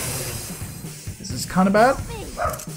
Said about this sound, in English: Apologies for the barking.